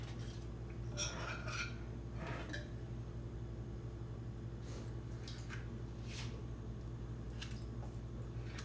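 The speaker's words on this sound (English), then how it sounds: "Kind of nice because I can kind of scrape the spoon along the edge." A spoon scrapes thick tallow lotion along the edge of a container in a few soft, close, squishy strokes, then small clinks and scrapes follow over a steady low background hum.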